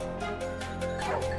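Hunting dogs in dense woodland during a wild boar hunt, giving a quick series of sharp barks and yips, fairly close and loud, over a steady background hum.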